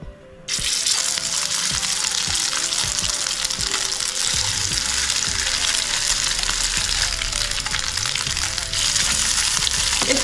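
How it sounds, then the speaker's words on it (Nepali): Meat patties of goat (khasi) meat fry together in one wide pan, giving a steady, loud sizzle and crackle that runs unbroken throughout, with faint low scrapes and clinks from the pan underneath. "अब मैले सबै प्याटीहरू रेडी गरेँ त्यस्तै प्रकारले, र अब म यसलाई फ्राई गर्छु।"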